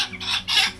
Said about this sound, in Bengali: এইটাও মুরগি